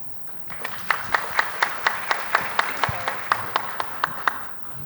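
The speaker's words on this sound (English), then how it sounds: "please give her a big round of applause" Scattered clapping rises at a panel discussion, a handful of distinct slaps in a loose, fairly regular rhythm. The claps are moderately close and fairly sparse rather than forming a full crowd roar.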